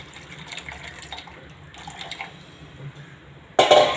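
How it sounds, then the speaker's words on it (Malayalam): Tamarind water is poured into a pot of boiling rasam, a soft bubbling simmer giving way to a sudden loud splashing pour at the end, close by. "നമ്മളെടുത്ത് വെച്ചിരിക്കുന്ന പുളിയുടെ വെള്ളം ഒഴിച്ച് കൊടുക്കാം"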